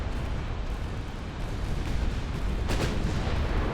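A torpedo slams into the battleship Mississippi during an 1890-era naval battle in Ultimate Admiral: Dreadnoughts, giving a steady, heavy low rumble that swells with a sharper blast burst near the end, loud and unbroken.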